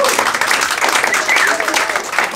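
Comedy club audience in Linz, Austria breaking into applause, a dense, steady wash of clapping that fills the whole stretch at close range, with voices mixed into the crowd noise.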